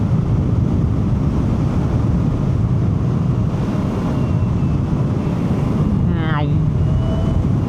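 A 2025 Can-Am Origin electric motorcycle rides in sport mode, carrying a steady, loud roar of wind and road noise with no break, and a brief high chirp rising near the end.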